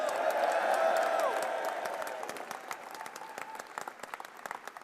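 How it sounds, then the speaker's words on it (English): A large crowd at a Boris Johnson political speech applauds and cheers. The dense clapping is loud at first and then gradually thins into scattered, sharper claps, with a few whoops rising above it. "Can we all give James one huge cheer?"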